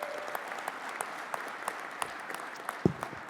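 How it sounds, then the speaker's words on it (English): Steady, moderately distant applause from an audience at a regional council meeting, an even wash of clapping with a few sharper claps standing out, continuing unbroken for a few seconds. "Please give all of them a round of applause as well."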